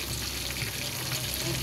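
Food fries in a pan with a dense, steady sizzle that stays loud and close throughout.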